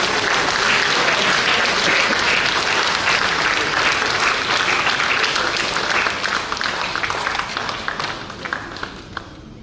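Dense, loud applause from an audience at a book launch goes on steadily for several seconds, then begins to thin and fade near the end, with no speech over it.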